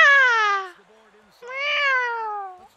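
Two loud, drawn-out cat meows, each with a rising then falling pitch, separated by a short pause and heard alone, played as a stream alert sound.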